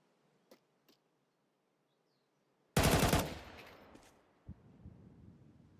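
Gunfire in a Counter-Strike match, a quick loud burst of several shots followed by a fading echo and a couple of later thuds, with faint ticks of game sound before it.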